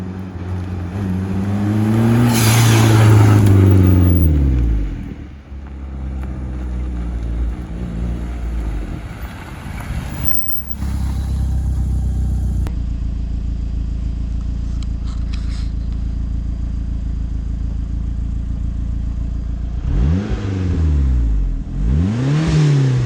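A Mitsubishi Lancer EVO III rally car on snowy back roads with ice-edge snow tires, its engine revving loudly and sweeping up and down through the gears, with steady road and cabin noise between pulls.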